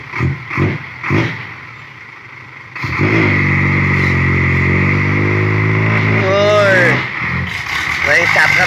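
A Ford tractor engine revs hard while lifting its front wheels: after a few loud bursts, a loud, sustained drone climbs and shifts in pitch. Voices shout over it.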